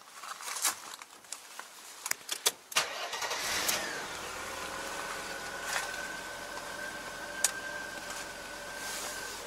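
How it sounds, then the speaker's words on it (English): A Mercedes engine cranks over after a few clicks and knocks, then catches and settles into a steady idle with a faint high whine and an occasional tick. "Start the engine."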